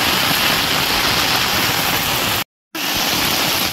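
Heavy monsoon rain pours in Dow Hill forest near Kurseong, a loud, dense, unbroken hiss close by, cut off by a brief dropout near the middle before resuming.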